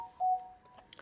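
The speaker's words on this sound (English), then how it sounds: "That was just my phone, and there was a message there on my phone." A mobile phone gives a short, bright message notification tone, a clean chime that sounds once and then fades, fairly faint, followed by a few soft ticks in a quiet room.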